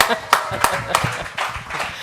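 At a writing master class, an audience gives a few scattered, sharp claps for the speaker, heard nearby under ongoing talk.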